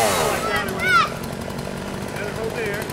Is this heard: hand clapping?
no